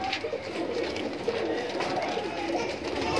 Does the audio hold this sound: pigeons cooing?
yes